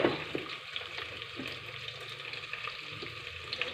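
Garlic, ginger, green chilli and onion fry in a pan for chicken curry with a soft, steady sizzle, broken by a few faint stirring scrapes, with no talking.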